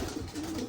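Racing pigeons in a loft, a soft continuous low cooing, close and steady for a brief moment without speech.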